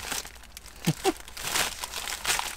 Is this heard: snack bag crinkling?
yes